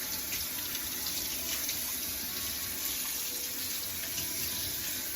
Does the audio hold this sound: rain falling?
no